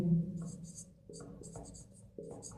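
Pen writing on a surface while a Hindi chemistry lesson names a coordination compound, with soft scratching strokes in short bursts and brief pauses between them.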